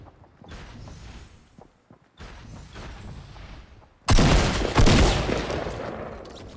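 Fortnite gunfire: muffled bursts of shots at first, broken by brief pauses, then a sudden loud, close volley of rapid firing that carries through to the end.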